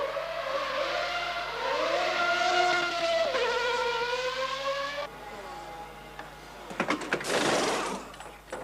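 A McLaren Formula One car practises a race start, its engine screaming through rising revs in a loud, close howl, then cutting off before sharp bursts of revving and a clatter of mechanical noise.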